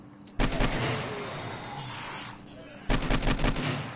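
An AK rifle fires in the zombie survival game 7 Days to Die: two sharp bursts of rapid automatic shots, loud and close, with a quieter stretch between them.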